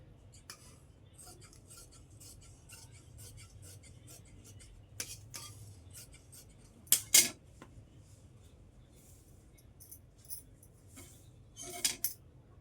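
Cloth is cut to measured size with scissors. Faint, sparse snips and clicks sound over a quiet room background, with a few sharper cuts clustered midway and near the end.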